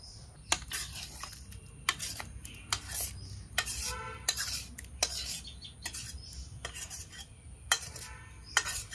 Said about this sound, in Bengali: তারপরে গামলা ধরে কড়াই ধরে ঢেলে দিই গামলাতে।